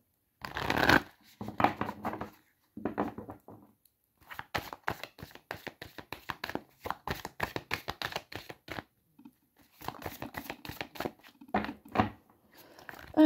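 Tarot cards are shuffled and handled up close in quick crisp riffling bursts, separated by short quiet pauses, with no talking.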